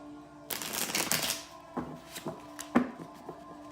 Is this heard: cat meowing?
no